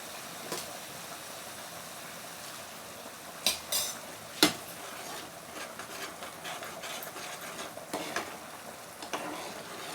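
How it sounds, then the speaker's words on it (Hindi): Dal with a freshly poured tadka tempering, a faint steady sizzle over ten seconds broken by a few sharp clinks of a spoon against the pot. "दाल फ्राई होगी।"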